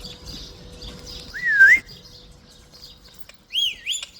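Birds in a lane in Oman where chickens and a parrot are kept give two clear, rising and falling whistled calls a couple of seconds apart, with faint chirps and low background noise between them.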